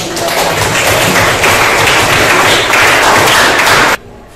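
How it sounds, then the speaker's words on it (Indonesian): Students in a class 12 classroom clap together in a loud, dense burst that holds steady for about four seconds, then cuts off abruptly into near silence. "Kasih tepuk tangan dulu"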